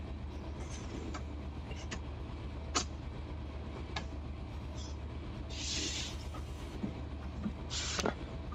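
A locomotive in the Run8 train simulator, running under power in notch 4 at about 48 mph, gives a steady low engine drone with faint wheel clicks and a few brief high squeals.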